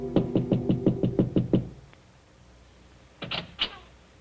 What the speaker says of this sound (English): there is a soft knock at his door